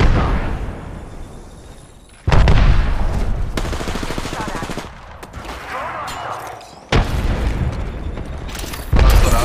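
Explosions and bursts of gunfire from a video game firefight, with a grenade going off, loud booms cutting in sharply several times over continuous rattling shots, while players talk over the action.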